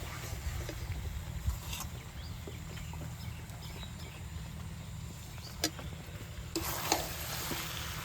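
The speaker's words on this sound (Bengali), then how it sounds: "মাংস থেকে তেল বেরিয়ে গিয়েছে এবার ভাজা আলুগুলো দিয়ে দেবো" Fried potatoes tossed into mutton cooking in its own released oil, a low steady sizzle with several sharp spoon-against-pot stirring knocks scattered through, fairly faint and without talk.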